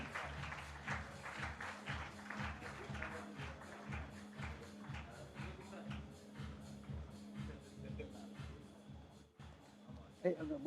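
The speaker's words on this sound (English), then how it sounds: "students, let's applaud them for the time that they have taken this evening" Students at an evening event applaud the jury, clapping in a regular rhythmic beat about twice a second with murmuring voices underneath, fairly faint and steady throughout.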